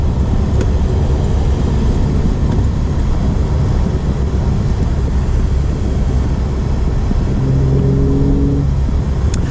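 A Porsche 991.1 Carrera 911 is driven with a loud, continuous engine roar heard from inside the car, with rising tonal revving toward the end.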